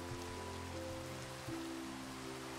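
Steady Minecraft rain patters softly and evenly throughout, with a quiet game music tone sustained beneath it and no talking.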